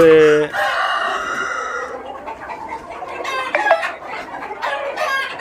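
Chickens cluck steadily while a rooster crows loudly at the start, with more crowing and squawks breaking through the busy, close-up farmyard chatter.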